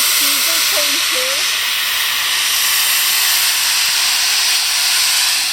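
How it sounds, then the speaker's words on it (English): Loud, continuous hiss of escaping steam from a steam train, with brief tonal squeals early on, close and filling the whole stretch. "This old steam train and the 1960s diesel train too."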